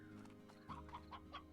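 Chickens cluck in Slime Rancher, a few short clucks repeating in a loose rhythm over steady game background music, moderately close and fairly quiet.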